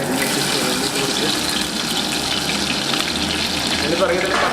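Shallots hit hot oil with popping mustard seeds while cooking a shark stir-fry, making a loud, dense, continuous sizzle that stays close and even throughout.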